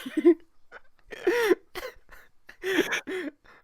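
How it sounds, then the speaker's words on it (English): A person with an irritated throat coughing: a few harsh, hoarse bursts separated by brief pauses, close and fairly loud. "I keep on coughing"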